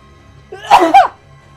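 A single person sneezes loudly and close by, with a short two-part burst and no other talk around it.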